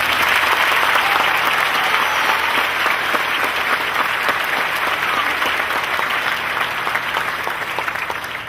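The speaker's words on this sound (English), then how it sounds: "Please again join me with the class of 2013 in another well-deserved round of applause." A high school graduation crowd applauds the graduating class of 2013 with loud, sustained clapping from many hands, filling the hall evenly and tapering a little at the close.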